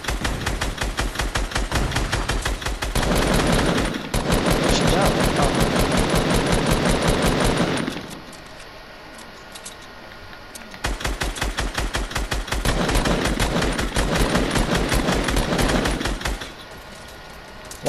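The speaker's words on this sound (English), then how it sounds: "She shoots a grenade launcher at us." Rapid automatic weapon fire from a grenade launcher battle in Fortnite, loud bursts of fast repeated shots in two long volleys separated by a quieter pause.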